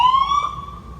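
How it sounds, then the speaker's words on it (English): A fire truck siren gives one brief rising wail, loud and close, fading slightly within a second. "Your sirens are down here."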